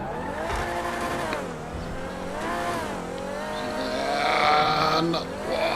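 A two-wheel drive car in a video game climbs a spiral ramp at low speed, its engine note rising and falling in repeated revving swells, with tire squeal toward the end.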